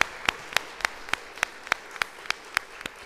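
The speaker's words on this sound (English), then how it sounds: "So a round of applause from you to your parents." A crowd at a primary school graduation claps for parents in a steady, even rhythm of about eleven sharp claps.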